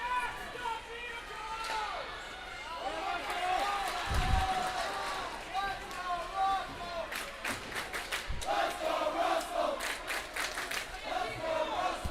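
A crowd at a high school ice hockey game roars and cheers in rising and falling waves, with shouts and some clapping, under a commentator's ongoing play-by-play.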